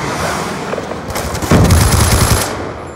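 Rapid automatic gunfire from a Call of Duty Black Ops 2 multiplayer match, a dense burst of close, loud shots that swells sharply halfway through and keeps rattling to the end, with no talking.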